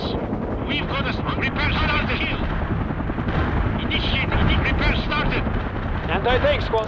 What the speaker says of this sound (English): Incoming artillery. Time to fall back to alternate defense positions, Romanov.